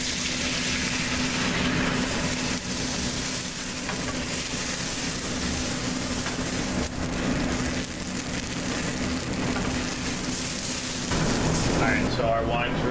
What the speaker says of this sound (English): the butter's melted, garlic's cooked, we add our white wine